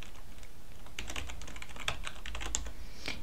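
Computer keyboard typing, a quick irregular run of close clicking keystrokes that come in bursts over a quiet background.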